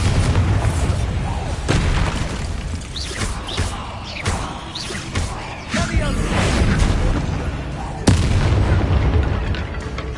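Bombarda spell explosions in Hogwarts Legacy, cast amid spider fights: booming blasts and bursts recur through dense battle noise, with a sharp loud hit near the end.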